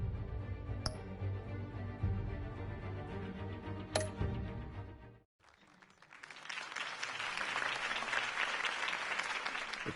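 A crowd breaks into sustained applause after a campaign speech in a Batman video game, a dense clapping swell that starts halfway through after music with chime-like ticks, and it fills the rest of the scene.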